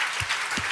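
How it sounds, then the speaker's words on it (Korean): Church congregation applauding together at a summer revival service, a short steady burst of clapping across the whole clip. "우리 주 앞에 감사의 박수 올려드리겠습니다."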